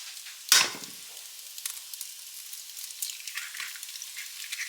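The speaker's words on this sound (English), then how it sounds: "you want to crack 1 egg directly into the pan on this other side" An egg cracked into a hot pan beside ramen, a sudden burst of sizzling at the crack that settles into a steady crackling fry with small spits and pops.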